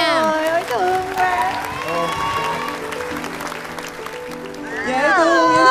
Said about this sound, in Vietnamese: Quý vị cho em một tràng pháo tay thật lớn nữa không ạ?